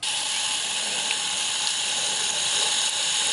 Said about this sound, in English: Now all we have to do is water this.